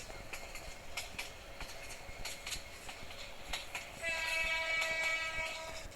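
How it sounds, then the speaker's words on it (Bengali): A fast-running train in Train Simulator Bangladesh clatters with regular clickety-clack beats over the rails, then its horn blares near the end, all at low volume. "ট্রেনের স্পিড অনেক বাড়িয়ে দিয়েছি"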